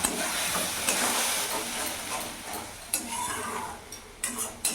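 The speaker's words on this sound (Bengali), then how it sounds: "এবার ভালো করে আমি কষিয়ে নেব" A pan of masala mixed with tomato paste for a double-yolk egg curry is stirred steadily, giving a continuous close sizzling hiss with scraping of the spoon and a few sharper clicks near the end.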